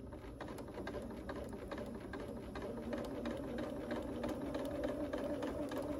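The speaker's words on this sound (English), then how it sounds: "continue to smoothly twirl and rotate the piece through the machine" A sewing machine stitches the curved seam of a drunkard's path quilt block, a steady close-up mechanical whir with rapid needle patter running continuously and alone.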